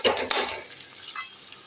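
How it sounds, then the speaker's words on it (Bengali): Boiled potatoes being stirred into chilies frying in a pan, with a couple of quick scraping stirs at first and then a steady soft sizzle continuing alone close by. "সেই আলুটা আমি এর সঙ্গে একটু মিশিয়ে নিচ্ছি"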